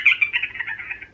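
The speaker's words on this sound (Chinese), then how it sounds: "对，这是非常小老鼠的声音。" A high, sustained squeak of a small mouse, played as a sound effect from a Gruffalo sound book, wavering over about a second at moderate loudness with no talking.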